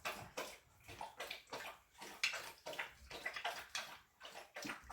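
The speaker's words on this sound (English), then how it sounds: "Can you hear my dog drinking the water?" Dog lapping water from a bowl, a steady rhythmic series of wet laps and splashes, close and fairly quiet.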